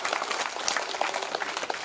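At a Karthika Deepotsavam at the Sri Ganga Parvathi Sametha Ramalingeswara Swamy temple in Chilumuru, a crowd claps in dense, steady applause that holds even and fairly loud throughout.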